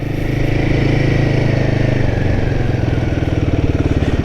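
Royal Enfield Himalayan 450 motorcycle engine running close and loud during a ride on a brand-new bike with 114 kilometres on it, a steady throbbing thump that holds through, rising slightly in pulse near the end.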